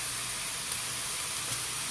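Fajita onions and peppers steam on a grill pan over a gas stove, giving a steady, loud, close hiss with no talking.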